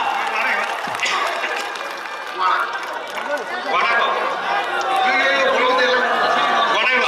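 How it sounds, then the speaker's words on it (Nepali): A crowd at a Nepali Congress political rally in Janakpurdham claps and cheers, a broad, sustained wash of applause and crowd noise that swells toward the end, with voices mixed in. "ताली बजाएर स्वागत गरिदिनु होला।"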